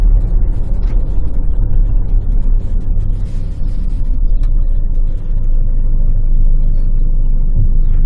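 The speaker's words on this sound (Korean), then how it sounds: "저기서 출발해서 한 70km, 80km 만들어 놓고 엑셀 딱 떼보자고요." A 2019 SsangYong Rexton Sports pickup drives on a flat road with a slight uphill grade. Its engine and the road noise make a steady, loud, low rumble throughout, heard from inside the cab, with no talking.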